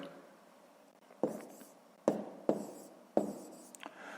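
A pen writing numbers on paper while working a fifth-grade maths column sum: soft scratchy strokes sound close and quiet, with four or five sharper bursts of writing separated by short pauses.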